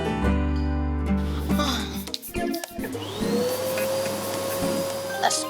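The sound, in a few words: vacuum cleaner running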